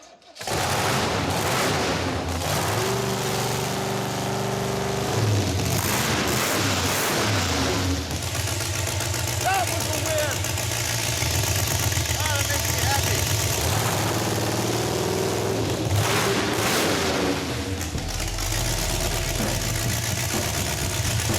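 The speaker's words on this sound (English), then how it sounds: "We're ready to just fire this thing up." The Roadkill project car Stubby Bob fires up and keeps running, its engine loud and rough at a steady idle with occasional revs. The cranking squeak is gone, and the engine holds close and constant throughout.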